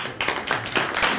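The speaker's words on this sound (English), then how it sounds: "They've even got the synchronized applause nailed down." Synchronized clapping from a crowd at a political event, a loud, close series of rhythmic unified claps about four beats in quick succession.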